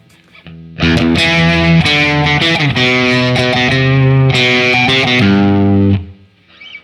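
A Telecaster plugged into a Marshall amp plays loud, heavily distorted sustained chords for several seconds, then cuts off into quiet.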